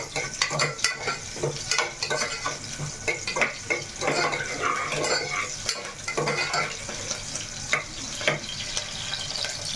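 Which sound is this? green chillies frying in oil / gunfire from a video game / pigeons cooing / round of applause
green chillies frying in oil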